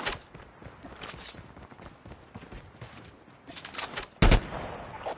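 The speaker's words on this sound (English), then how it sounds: "Shotgun here." Shotgun fire in a video game: a single heavy blast near the end stands out above a busy backdrop of distant game gunfire and clatter.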